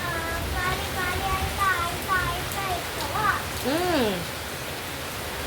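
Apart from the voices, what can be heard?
rain falling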